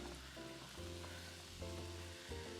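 A pot of pasta fagioli boiling hard on a stovetop, a continuous close bubbling and sizzling hiss with a low steady hum underneath.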